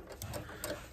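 A sewing machine runs a rapid, steady stitch around a dress neckline 1 cm from the edge, a close mechanical ticking pulse heard on its own without speech.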